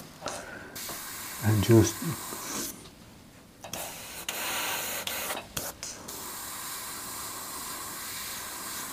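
An airbrush sprays paint in short hissing bursts of rust-coloured streaks over metal, broken by pauses and a brief spoken voice.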